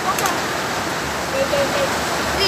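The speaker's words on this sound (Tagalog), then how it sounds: "Maingay. Umuulan po kasi." Heavy rain pours outdoors in a loud, continuous wash of hissing water, close and unbroken throughout, with faint voices just audible beneath it.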